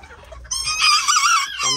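A rooster of the Valdivia bloodline clucks and then lets out a loud, close crow with a strained, wavering tone, ending on a lower clucking note.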